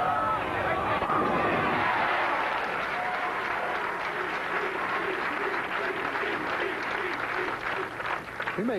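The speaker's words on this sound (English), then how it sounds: "The crowd picking up the chant, Pete, Pete, Pete." A bowling crowd at the 1982 Greater Hartford Open applauds loudly, the clapping dense at first and then thinning into rhythmic chanting under lingering claps.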